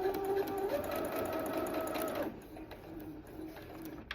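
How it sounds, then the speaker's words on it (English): A sewing machine runs close by, stitching elastic onto faux fur in a fast steady whir that stops about halfway through, leaving quieter handling noise. "I'm just gonna sew it right down like that."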